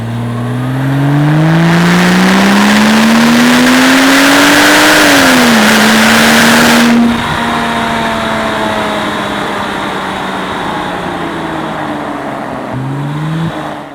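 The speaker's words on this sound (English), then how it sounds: "Just going through this short burst and opening up the car a little bit and taking it up to circa 60 miles an hour" A Porsche 911 Turbo 997.1 with the Mezger engine accelerates hard toward about 60 mph, a loud close engine note rising steadily through the gears with a brief shift dip, then settling to a steady drone before revving up again.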